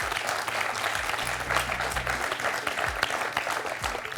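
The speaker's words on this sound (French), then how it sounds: "1 point pour Manuel, qu'on peut applaudir" A studio audience at the French TV quiz show Questions pour un champion applauds a contestant, a continuous even patter of many hands, moderately loud, over a faint low background tone.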